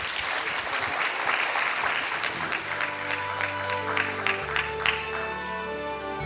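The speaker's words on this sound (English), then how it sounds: "So please join me in giving them a warm round of applause." A conference audience at Thailand Focus 2025 applauds in a dense round of clapping that fades while sustained music tones rise underneath.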